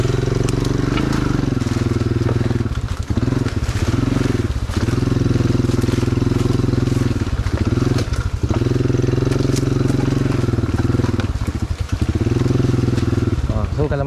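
A motorcycle engine runs loud and close on a forest trail, chugging steadily with repeated dips and surges as the rider works through rough ground, with clattering and crunching from the terrain.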